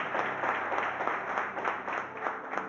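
A church congregation applauds the pastor with a moderately loud, rhythmic clapping that swells and dips in pulses, steady over a faint hum.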